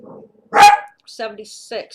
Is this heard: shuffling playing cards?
no